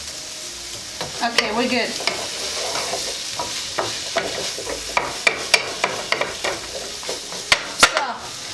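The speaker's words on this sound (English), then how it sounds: "I'm gonna let that sizzle and the garlic take a little bit of flavor" Garlic sizzles steadily in a hot frying pan as a utensil stirs and scrapes, with sharp clanks against the metal; a voice speaks briefly.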